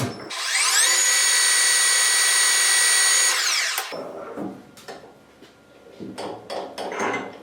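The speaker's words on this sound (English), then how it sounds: "So now let's get that drilled and tapped" A power drill whines steadily at high pitch for about four seconds drilling metal before tapping, then stops, followed by clanking metal tool and workshop noises.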